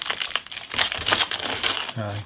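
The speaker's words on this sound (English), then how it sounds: "let's take this tape off" Tape peeled off the bowed neck of a 50-year-old acoustic guitar during fret repair makes close, crinkly ripping and crackling in uneven bursts, with a voice speaking briefly near the end.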